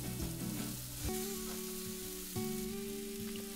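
Samosa potato filling fries in a pan with a steady, faint crackling sizzle and soft stirring, while a low tonal hum runs underneath; nobody speaks.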